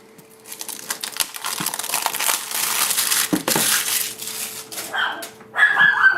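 A dog barks a few times in a room during a knife unboxing, amid loud crinkling and crushing of cardboard packaging, with a sharper burst near the end.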